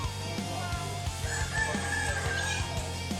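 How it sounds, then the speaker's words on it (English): A rooster crows in an outdoor village setting, a fairly close, loud drawn-out call with a few clucks, heard over steady background noise and music. "Very friendly neighbors here and a very happy chicken."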